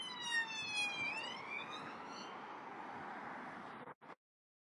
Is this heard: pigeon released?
no